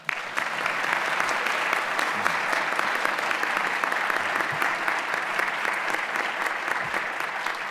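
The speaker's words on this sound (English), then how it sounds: "I'd like to give him a round of applause." Sustained loud applause from a large audience at a Freedom From Religion Foundation convention, dense steady clapping throughout without pause.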